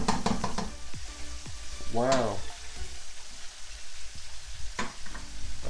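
Chicken wings deep frying in hot oil make a steady sizzling hiss that runs throughout. A voice cuts in briefly with a short exclamation.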